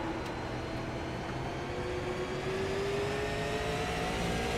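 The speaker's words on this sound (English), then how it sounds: "You hear how hesitant Grable is to get into the throttle right there." A race car engine drones steadily on throttle at Myrtle Beach Speedway, pitch rising gradually as it accelerates, heard from a distance with a constant whirring tone.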